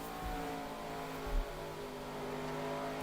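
A NASCAR Cup Series race car, #48, running laps at Rockingham in 2003 gives a steady, loud engine drone with layered harmonic tones and a couple of brief low thumps, with no talk.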